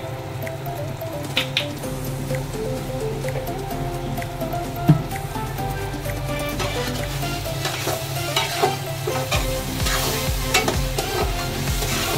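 Eggs fry in a pan for chow mein as tomato sauce is poured in and stirred, giving a continuous crackling sizzle with wet squishing and occasional scraping taps, loud and close.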